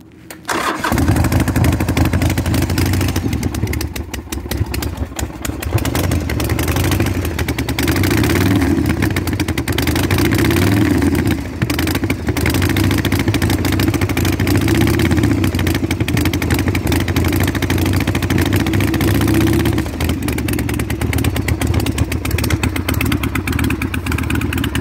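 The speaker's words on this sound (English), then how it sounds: "I'm going to go ahead and give you a cold start for it." An old-school 1970s-style Evo Sportster chopper with a 1275cc engine and enricher on starts from cold, then runs steadily at a loud, even idle with a thumping rumble that continues throughout.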